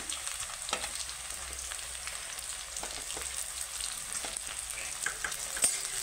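Chicken pieces with onions and green chillies fry in a pan, giving a soft, continuous sizzle broken by occasional stirring knocks and scrapes, moderately close with no voices.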